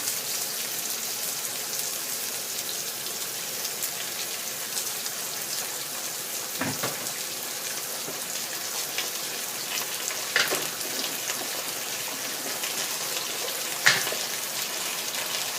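Eggplant with ginger and oyster sauce stir-fries in a pan, giving a steady, close hiss of sizzling oil, broken by a few brief scrapes of a utensil against the pan.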